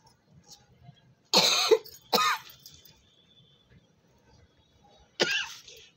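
Three sharp coughs, two close together and a third after a pause, loud and near in an otherwise quiet setting.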